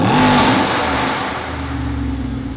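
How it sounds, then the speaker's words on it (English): A Lamborghini engine revved while still cold, one loud throaty rev that peaks and then settles into a lower steady idle with a whirring tone, close by and with no talking over it. "Rev it cold."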